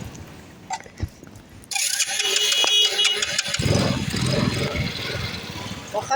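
A vehicle engine misfires, its rough, uneven rumble kicking in abruptly after a quiet moment and running loud and close, with irregular sputtering pulses.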